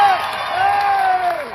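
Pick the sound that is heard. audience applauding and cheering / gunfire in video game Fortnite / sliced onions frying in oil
audience applauding and cheering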